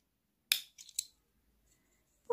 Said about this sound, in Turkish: Şimdi ipimiz makasım alayım. İplerimizi keselim.